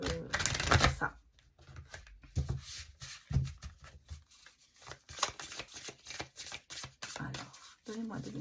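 Tarot cards are shuffled and laid down in quick riffling bursts and soft slaps, close and fairly quiet, with a voice talking intermittently over them.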